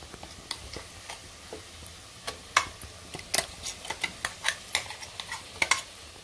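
Ground masala paste stirred into a simmering Maharashtrian amti of chickpeas, elephant foot yam and drumsticks, with a spoon scraping and clicking against the pot in a quickening run of close, crisp strokes and no voices.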